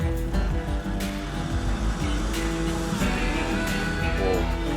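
An old gas-guzzler car engine on gravel, running with a loud, rough, rumbling idle and revs, steady and close throughout.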